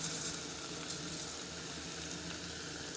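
India Gate dry rice grains tipped into a cooking pot in a home kitchen, a close, steady rattling patter of grains striking metal, heard alone.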